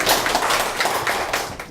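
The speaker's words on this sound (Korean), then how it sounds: "큰 박수 부탁드립니다" An audience applauding at a talk about North Korea, a dense steady wash of claps close by and fairly loud throughout, with no voices over it.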